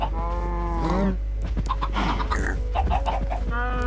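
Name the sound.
cows mooing in a video game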